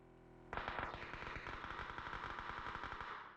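Sustained automatic gunfire in the battle royale game PUBG starts abruptly and continues as a fast, evenly spaced burst of loud shots for about three seconds, with no talking over it.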